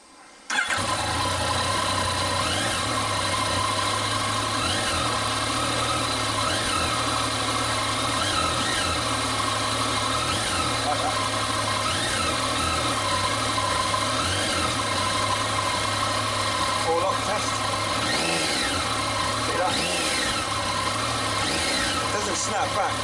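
Yamaha MT09 (FZ09) motorcycle engine running steadily at close range, a continuous loud idle-like drone with slight throttle variations and some talk.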